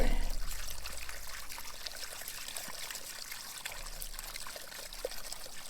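Water trickles and splashes steadily as a filter screen is rinsed, a soft running wash with a slight gurgle, fairly close and uninterrupted by talk.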